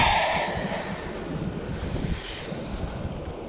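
Strong wind gusts buffet the microphone at sea on a small inflatable fishing boat off Cornwall, with a steady rushing roar and low water wash, no voices.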